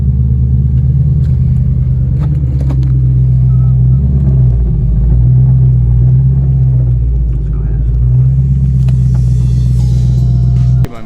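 Lexus GS400 drift car engine idling steadily after starting, a loud continuous low rumble with a slight dip in pitch midway, close and constant throughout.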